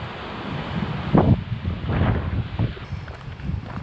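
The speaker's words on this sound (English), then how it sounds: "the wind is so strong I don't want to be blown over" Strong gusts buffet the microphone on the Atlantic coast of Portugal, a loud steady roar with several heavier surges. A low wash of surf sits underneath, and no one speaks.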